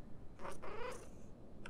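Pet cat in The Sims 4 giving a short, soft purr, a couple of brief rumbling bursts close up over quiet game background.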